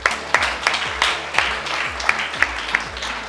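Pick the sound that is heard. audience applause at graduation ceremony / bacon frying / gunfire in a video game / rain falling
audience applause at graduation ceremony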